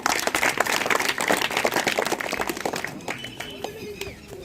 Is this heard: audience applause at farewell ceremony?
yes